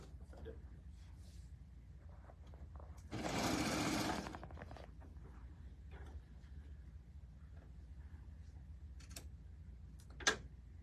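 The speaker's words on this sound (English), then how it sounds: "And turn the corner again, but we're still serging all the way up." Serger stitching along the edge of a sunflower panel quilt, a brief rapid mechanical whir of about a second under quiet room noise, followed by faint ticks and a sharp click.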